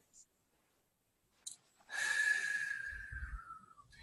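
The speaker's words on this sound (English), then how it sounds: "deep breaths in" Slow deep breathing, faint at first, then one long audible exhale blown out, close and soft in a quiet room with no other sound.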